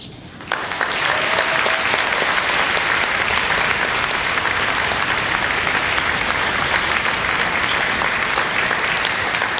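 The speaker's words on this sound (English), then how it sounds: "Round of applause" An audience at a middle school symphonic band concert applauds in a sustained, loud, even burst of clapping that carries through to the end.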